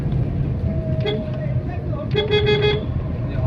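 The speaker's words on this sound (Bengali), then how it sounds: "হর্ন দিচ্ছি" A car horn toots several times on a local road during a driving lesson, loud and close over the running engine and traffic noise, with a voice talking in between.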